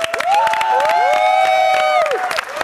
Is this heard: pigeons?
no